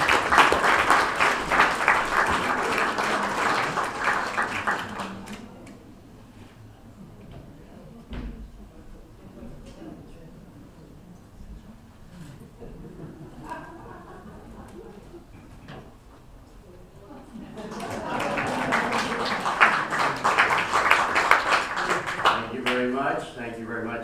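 Audience applause at a senior show at The Samarkand in Santa Barbara, greeting a comedian: loud, dense clapping at the start, fading under quieter room sound and talk, then swelling again into a second strong burst near the end.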